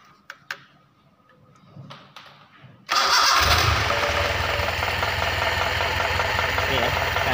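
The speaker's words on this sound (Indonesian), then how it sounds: "Kita nyalakan mesin." Car engine cranked and started during lubrication system maintenance, a few quiet clicks and taps first, then a sudden catch into a loud, steady idle that continues close by.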